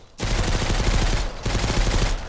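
Rapid automatic gunfire from enemies in a survival video game, two long, loud, close bursts of fast repeating shots separated by a very short pause, with no talk over them.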